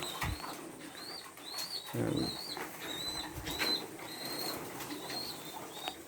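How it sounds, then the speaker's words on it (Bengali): Feeding pigeons coo repeatedly in a loft, with a brief burst of wing flapping midway and soft shuffling, all close and fairly quiet, no voices. "প্রত্যেকে প্রত্যেকটা পায়রাই খাচ্ছে খুব সুন্দর"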